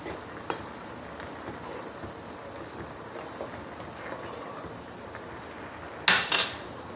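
A spoon scrapes and clinks against a metal pot of macaroni over a low bubbling background, ending in a louder burst of clattering near the end.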